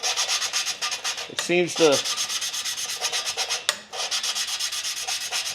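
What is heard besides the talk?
grinding compound being rubbed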